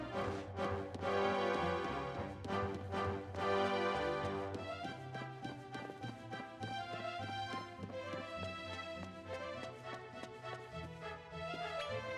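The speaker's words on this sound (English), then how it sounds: "Oh, there's the horse." Horse hooves clip-clopping in the Dragon Quest Monsters: The Dark Prince video game, a steady rhythmic trot heard alongside continuous game music with no talking.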